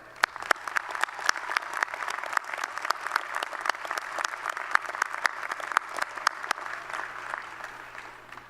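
Audience applause at a 2019 spring university commencement ceremony, sustained clapping from a large crowd with sharp individual claps popping out near the front, steady throughout with no speech.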